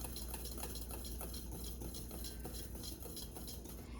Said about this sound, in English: I'm going to use my whisk. And whisk that together really well.